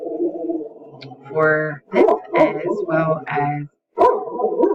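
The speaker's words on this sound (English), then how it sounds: "Sorry about my barking dog." A dog barks sharply several times close by, short yips breaking through a person talking steadily.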